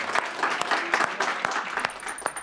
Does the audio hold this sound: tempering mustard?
no